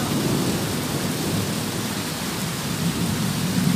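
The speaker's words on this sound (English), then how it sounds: "This video I made from the sky, rain, thunder." Steady rain with thunder rumbling through a storm, a dense continuous wash of rainfall and low rolling thunder that holds even and loud throughout, with no voices.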